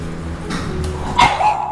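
A dog at a pet cafe gives a short, close bark with a yelping edge over a steady indoor background hum, brief and fairly loud.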